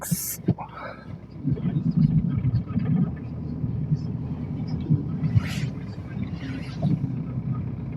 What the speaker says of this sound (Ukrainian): Півторашний дизель, 110 кінських сил, 2011 рік.